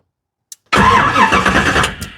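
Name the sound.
1973 Camaro engine cranking, not starting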